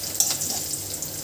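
Chopped onion and green chilies sizzle steadily in a pan while being stirred, a close, continuous hissing fry with light scraping.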